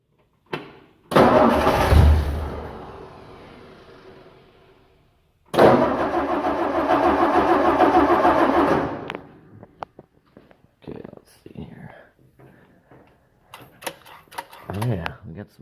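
A 1964 Ford 223 engine with dual Weber carburetors cranks and fires twice, each start a loud close roar lasting a few seconds before cutting off, followed by clicks and someone talking.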